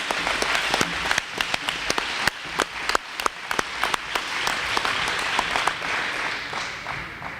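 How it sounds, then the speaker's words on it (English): A room of dinner guests gives a sustained round of applause for honorees at a senior recognition dinner, with dense clapping and occasional sharper individual claps standing out, steady and moderately loud. "Let's give all of them a big round of applause again."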